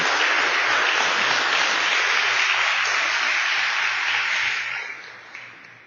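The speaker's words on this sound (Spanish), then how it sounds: "denle un gran aplauso al Señor." A congregation claps loudly and steadily at a Spanish-language church service, a dense sustained applause that holds for several seconds before tapering off near the end.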